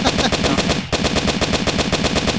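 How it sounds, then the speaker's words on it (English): Rapid machine gun fire in the video game Interactive Buddy rattles out as a continuous rapid-fire burst, loud and close with a brief gap partway through. "Hit him with a machine gun"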